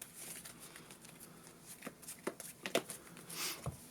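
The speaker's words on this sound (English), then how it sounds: "Shuffle these up." A deck of Yu-Gi-Oh! trading cards being shuffled by hand, with soft riffling and several crisp snaps and flicks in an uneven rhythm, close but quiet, and no talk.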